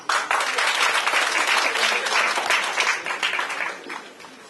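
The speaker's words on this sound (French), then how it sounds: "Sous vos applaudissements" An audience applauds at a welcome during an official ceremony for a medical centre, dense steady clapping from many hands, loud and close, tapering off toward the end.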